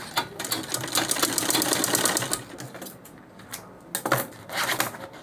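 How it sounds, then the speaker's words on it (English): A sewing machine top-stitches a second pass along a carry bag, its needle chattering in a fast steady run for a couple of seconds, pausing, then a few shorter bursts, close up. "So the next thing you do is you top stitch it the second time"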